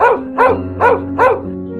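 Four loud, evenly spaced dog barks ring out close up over a steady musical background, used as a sound effect in a children's story.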